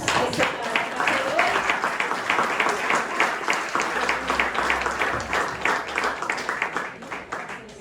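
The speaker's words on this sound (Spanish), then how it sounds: "Un aplauso al Señor, hermanos" A church congregation applauds with brisk, rhythmic clapping that stays loud and steady, with voices mixed in among the claps.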